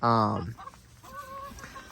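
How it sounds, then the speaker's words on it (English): A loud, harmonic call from a naked neck Silkie rooster opens, then trails into softer chicken sounds and faint background noise. "So this is a naked neck Silkie here. He's a rooster."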